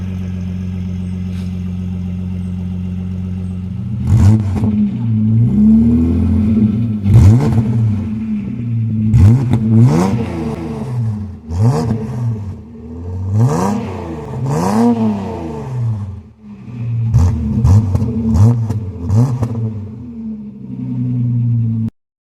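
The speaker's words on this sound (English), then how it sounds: "The sound with the high flow cat." A Holden VS V6 ute with a 2.5-inch Redback catback exhaust and high-flow cat idles, then takes a series of sharp revs that rise and fall in quick succession, loud and close, before settling back to idle.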